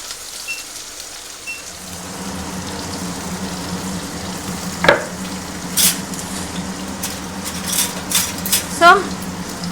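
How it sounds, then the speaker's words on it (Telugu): Green chillies frying in hot oil in a pan give a steady, close sizzle with a few light clinks from a utensil. "పచ్చిమిరపకాయలు కాస్త వేగగానే ఉల్లిపాయలు కూడా వేసేసుకున్నాను"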